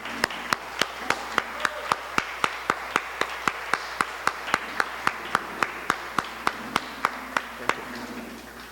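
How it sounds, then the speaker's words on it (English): Applause after a speech at a county annual dinner, heard as a single clear, evenly spaced run of loud hand claps, close and crisp, with faint room noise between claps. "Let's give a big round of applause."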